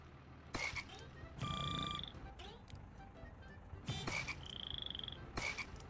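Cartoonish frog croaks from a game jam video game where frogs arrive in waves. Bursts of croaking and bright chirpy tones repeat in two clusters over a steady background, with no talk.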